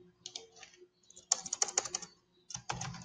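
A file name is typed on a computer keyboard in short clusters of crisp, close key clicks with brief pauses between them.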